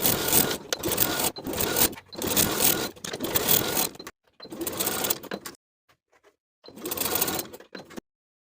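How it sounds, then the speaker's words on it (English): Sewing machine top stitching a cardigan's neckline seam at a quarter-inch allowance, running in several steady whirring bursts separated by short pauses, close and clear with no talking. "we're going to top stitch that neckline seam with a 1/4 inch seam allowance"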